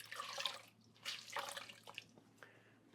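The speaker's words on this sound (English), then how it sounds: "I'll just clean this, dip it in my water" A pottery glazing tool is rinsed and dipped into a container of water, giving soft, quiet splashes and drips in a few short bursts, with no voices.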